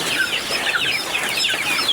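Farm chickens on a small rainy-day farm cluck and chatter continuously, a busy flock sound close by with overlapping calls and no talking.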